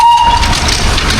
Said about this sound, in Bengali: Darjeeling Himalayan railway, Indian railway সব থেকে পুরনো রেল ইঞ্জিন আমি আজকে আপনাদেরকে দেখাবো।